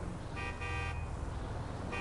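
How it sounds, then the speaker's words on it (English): A car horn honks in several sustained blasts over steady road traffic noise. The horn is loud and nearby, with brief gaps between the toots. "Quit honking at me."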